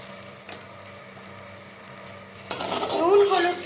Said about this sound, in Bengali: নুন হলুদকে ভালো মতন কড়াইয়ের মধ্যে তেলের সাথে মিশিয়ে নিলাম।